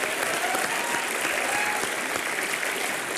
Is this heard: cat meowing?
no